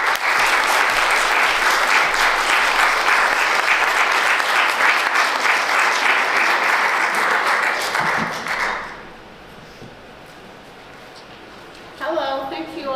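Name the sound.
audience applause welcoming Professor Taylor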